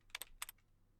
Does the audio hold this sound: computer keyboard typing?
yes